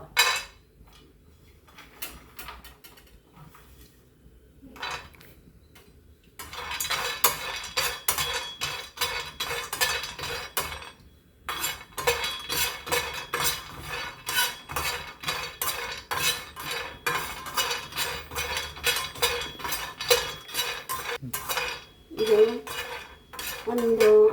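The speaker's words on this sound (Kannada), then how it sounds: "ಈಗ ಗ್ಯಾಸ್ ಆನ್ ಮಾಡಿಬಿಟ್ಟು ಈಗ ಸಣ್ಣ ಉರಿಯಲ್ಲಿ ಗೋಡಂಬಿಯನ್ನು ಸ್ವಲ್ಪ ಫ್ರೈ ಮಾಡ್ಕೊಳ್ಬೇಕು" Cashews fry gently in a pan over a low gas flame, heard as rapid repeated metallic scraping and clinking of a spoon against the pan, near and busy after a quieter opening.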